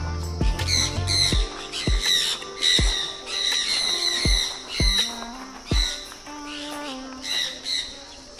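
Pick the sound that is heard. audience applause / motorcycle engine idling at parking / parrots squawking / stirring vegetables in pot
parrots squawking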